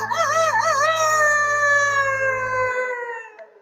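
Rooster crowing very loudly up close, one long drawn-out crow with a wavering start that slides down and fades out, with no talking.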